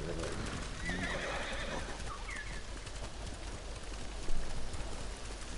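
A horse in the video game Ghost of Tsushima gives a whinny over dense outdoor ambience with bird calls and hoof clip-clop, fairly loud within a continuous, noisy game soundscape.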